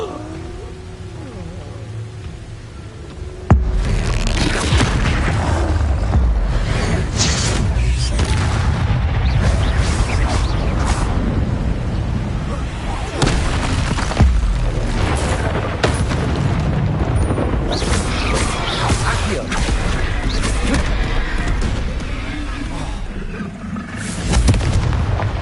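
Explosive blasts from the Expulso spell in the video game Hogwarts Legacy, a loud sustained barrage of booming bursts over game music and effects, with a voice calling out the spell under the din.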